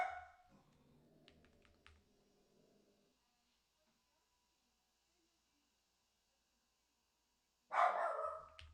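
A pet dog barks indoors, upset by voices outside: a few faint, muffled barks at the start, a stretch of near silence, then a louder, closer bark burst at the end.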